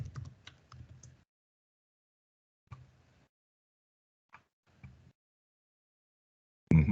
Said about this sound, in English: I see that you are typing some responses.